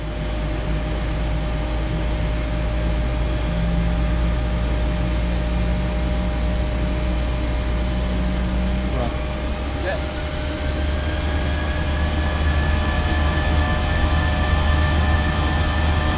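Twin jet engines of a Boeing 737-800 spool up steadily to takeoff thrust at Seattle in a flight simulator, a loud constant roar with a rising whine, a short click midway and a pilot talking over it.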